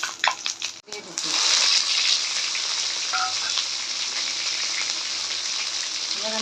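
Whole spices, namely cinnamon, cardamom, panch phoron and four dried red chillies, hit hot oil for a vegetable khichuri and set off a loud, steady close-up sizzle that holds after a brief clatter at the start.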